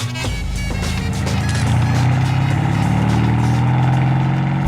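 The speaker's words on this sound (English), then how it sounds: "This car in particular has about 800 horsepower and is extremely loud" A Mercedes-Benz S63 AMG with a full custom exhaust, tuned to about 800 horsepower, rumbles loudly up close with a deep steady drone that builds slightly in pitch and volume.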